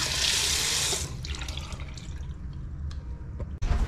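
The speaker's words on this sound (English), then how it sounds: "Running water." A hotel bathroom tap runs in a loud steady hiss for about a second, then cuts to quieter drips and trickling water in the basin.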